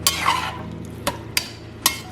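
Garlic pork being stirred in a pot: a few separate scraping knocks from a spoon against the pot, nearby, over a low simmering background.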